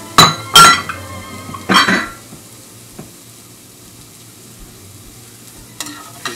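Garlic and ginger frying in a pan for a Chinese sweet and sour chicken, with several loud metallic clanks and scrapes of stirring early on, then a soft sizzle underneath and a couple of later knocks.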